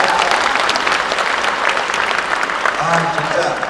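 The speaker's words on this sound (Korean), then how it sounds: "이야, 박수!" A loud burst of applause from a crowd at a Korean party members' education event, dense clapping throughout with some voices mixed in.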